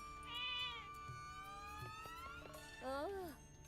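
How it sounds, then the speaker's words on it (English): Cats meow in a desert area of the video game Zelda: Echoes of Wisdom, two clear rising-and-falling meows a few seconds apart over soft game ambience and music. "Why are there so many cats in the desert?"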